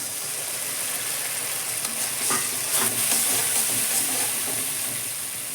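Onions and tomatoes with spices sizzling in a pan, a steady close hiss with brief stirring scrapes midway, no voices.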